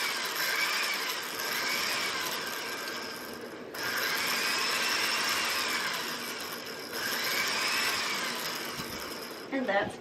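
A pieced spangled quilt is rolled tight onto a longarm quilting frame, giving three long, steady mechanical rolling passes of ratcheting, whirring noise with short pauses between them and a small clatter at the very end.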